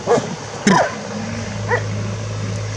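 Kangal dogs barking at strangers in a few loud, sharp bursts, with a steady low hum running underneath and a fainter bark later.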